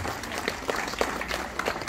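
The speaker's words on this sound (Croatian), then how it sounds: "ma dajte aplauz, Meri" Audience applause at the awards ceremony closing a camellia festival in Opatija, a steady patter of many hands clapping at moderate distance for a prize winner, with a voice briefly over it.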